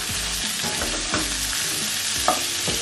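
A tomato mixture sautéing over low heat in a pan for ground fish curry, a constant loud sizzle with the utensil scraping and turning it several times, up close and with no speech.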